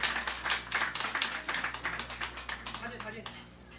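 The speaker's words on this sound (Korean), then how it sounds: "박수 한번 주세요" Steady applause from a small crowd, a patter of claps at an even pace that fades slightly toward the end.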